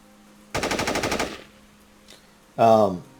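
A rapid burst of automatic gunfire, around ten sharp shots in a second, followed after a pause by a short, loud shout.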